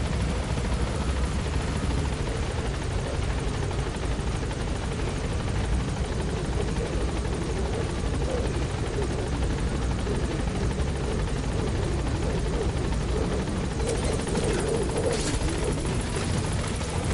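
A helicopter in the video game Metal Gear Solid V: The Phantom Pain beats with a constant, loud rotor drone and engine whine, unbroken for the whole stretch, with a few sharp clicks near the end.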